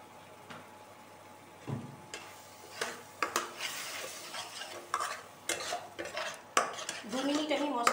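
Masala being sautéed and stirred in a pan with a little added water while cooking Bengali rui fish roe kalia, a spoon repeatedly scraping and clinking against the pan over a soft steady sizzle, close and fairly quiet.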